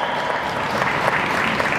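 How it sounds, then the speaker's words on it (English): Steady applause from a crowd at a live creator convention meet-and-greet panel, dense and continuous clapping filling the whole moment without speech. "Everybody give a round of applause."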